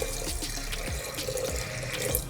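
Water pours steadily into a pressure cooker over soaked dal for dal fry, a continuous splashing stream from a tap-like flow, close and fairly loud with no talking.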